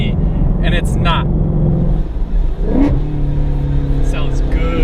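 Car exhaust rumbling with a rise in revs, loud and close, as people talk over it throughout.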